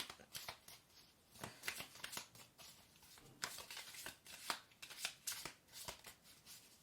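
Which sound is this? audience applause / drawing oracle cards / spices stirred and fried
drawing oracle cards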